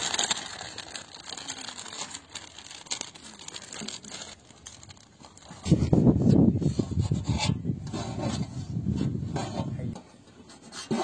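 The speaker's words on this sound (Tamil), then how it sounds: "இப்ப பிரெட் அவங்களும் சேர்ந்து கட் பண்ண போறாங்க." A knife saws through a loaf of bread for bread halwa cooked at a wedding, making a steady rasping and scraping sound that grows louder partway through, with background noise and occasional voices.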